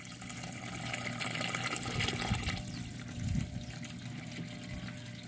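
Water pours steadily into a bucket being filled for growing a water lily, a continuous rushing gush that swells slightly midway, close by with no talk.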